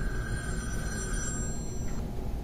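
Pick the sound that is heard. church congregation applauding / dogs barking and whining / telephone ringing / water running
telephone ringing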